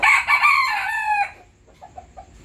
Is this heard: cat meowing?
no